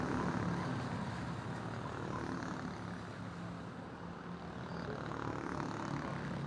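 Racing kart engines on track during a Saturday night finals session, heard as a dense, steady engine drone that stays loud and constant throughout, without distinct passes.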